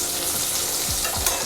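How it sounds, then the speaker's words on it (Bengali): Potato pieces, not coated in turmeric, sizzle steadily in hot oil in a home kitchen, a dense continuous crackle with a couple of soft scraping stirs near the end. "আমি আলুটা হলুদ মাখাইনি, গরম তেলের মধ্যে দিয়ে দিলাম"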